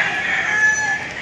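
A gamecock rooster crows inside a clean cock house in Pampanga, one sustained loud close call heard on its own.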